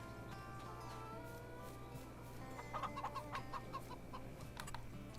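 Baby chickens cluck and peep in Farming Simulator 22 over a steady low background hum, with a cluster of chirpy calls in the middle, fairly faint and without talk.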